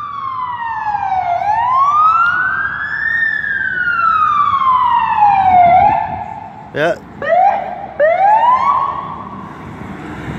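A fire engine siren on Main Street sweeps loudly up and down in long wails, then breaks into short choppy yelps as the truck passes close by, with a brief spoken word over it.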